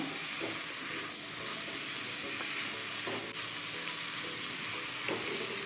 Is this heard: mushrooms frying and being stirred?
yes